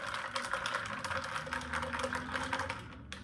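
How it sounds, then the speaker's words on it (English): Ice stirred in a glass for a Ruby Mule cocktail, a steady run of close, bright clinks and rattles lasting a few seconds with no talking. "So I'm gonna add some cold ice to this. And give it a little stir."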